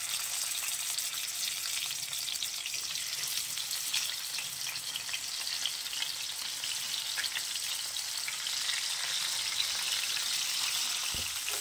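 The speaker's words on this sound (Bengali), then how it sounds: "আমি একটা প্যানে সরষের তেল গরম করে নিয়েছি। নুন হলুদ মাখানো কই মাছগুলো ভেজে নেব।" Koi fish (climbing perch) rubbed with salt and turmeric fry in hot mustard oil, a steady, dense sizzle that holds at an even level throughout with no voices.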